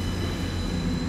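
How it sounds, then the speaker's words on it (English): Steady low rumble and drone of a cross-country service to Edinburgh pulling out of Exeter St David's station, continuous and moderately loud with no voices, over about a second. "that cross-country service to Edinburgh has just left"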